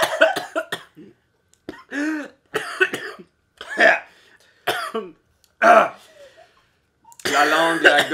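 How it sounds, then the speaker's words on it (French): Someone coughs and clears their throat after eating extremely spicy chips: several short, close coughing bursts and throaty sounds spread across the clip, with some talking mixed in. "J'ai toussé, ça m'est sorti par le nez."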